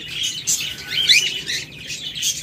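A pair of cockatiels chirps in repeated bright, overlapping calls at close range over a steady low background hum, with no talking.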